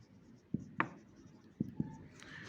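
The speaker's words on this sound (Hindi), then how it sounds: "तो हम लिखेंगे" Pen writing on paper during a classroom lesson, a few short scratchy strokes and taps spaced across a couple of seconds, close and fairly quiet over low room noise.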